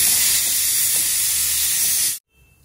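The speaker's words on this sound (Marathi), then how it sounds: "त्यासाठी खोबरं भाजून घेते" Grated coconut roasting in a hot pan for mutton curry gives a loud, steady hiss like spray that holds for about two seconds and then cuts off abruptly into near silence.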